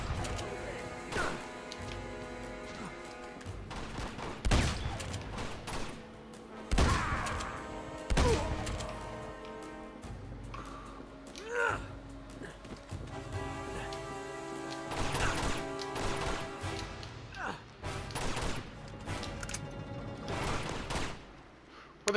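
Gunfire in the video game Uncharted 2 comes as scattered sharp cracks and heavy impact thuds amid crashing debris and tonal game music, irregular bursts spread across the stretch, some loud and close.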